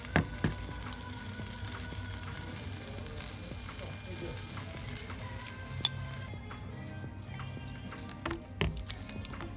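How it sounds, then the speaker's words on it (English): An egg goes into a sizzling pot of Korean sundubu stew, with a continuous close bubbling sizzle, scattered light clinks of utensils, and a few louder knocks near the end. "So first the egg goes in."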